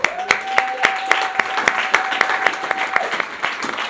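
A church congregation bursts into rhythmic applause, clapping fast and steadily for several seconds. The hall is loud and reverberant, and a sustained voice tone rides over the first part.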